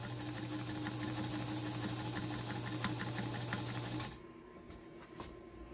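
A White 764 sewing machine stitching fabric runs in a steady, even mechanical whir for about four seconds, then stops, leaving faint clicks and quiet handling sounds.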